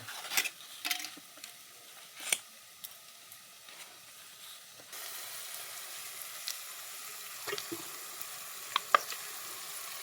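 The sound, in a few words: curd (dahi) added and stirred into frying vegetable curry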